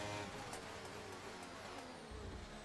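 Race car engine from the F1 23 video game, a loud steady high-revving drone held throughout while overtaking a Ferrari.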